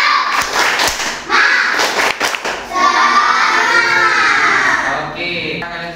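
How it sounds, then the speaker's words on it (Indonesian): Children in an Indonesian classroom clap out a quick rhythmic spirit-clap pattern, sharp hand claps in bursts, with an adult voice and children's voices chanting along. "Tepuk semangat."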